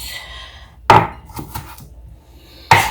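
Knife chopping onions on a board for a Nigerian fish roll filling: two sharp, loud cuts about two seconds apart, with soft handling noise between them.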